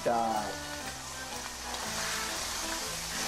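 Steady, loud sizzling of beef frying in a hot pan for ragu sauce, a continuous crackling hiss with a few faint clinks, no talking.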